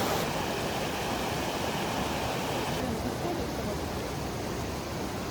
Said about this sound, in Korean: 와, 폭포 장난 아니다